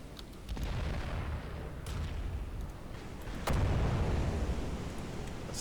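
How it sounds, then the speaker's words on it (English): Heavy naval guns of the battleship King George V boom in a naval battle video game, a few loud broadband blasts rising over a constant low rumble. "both of her 4 turrets are firing happily still"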